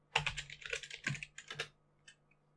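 A sudo password is typed on a computer keyboard at a Linux shell prompt: a quick, close run of soft key clicks that thins out into a couple of final taps.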